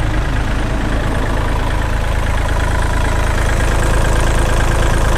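Kubota L3008 tractor diesel engine idling steadily, loud and close, a continuous dense rumble with no pauses for the whole stretch.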